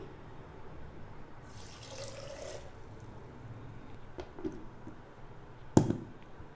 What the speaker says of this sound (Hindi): आधा ग्लास पानी